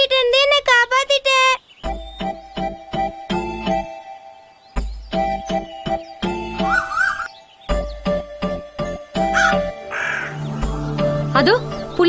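Cartoon crows cawing repeatedly in a Tamil animated children's film, harsh caws in short bursts over chirps, jingles and music, loud and near.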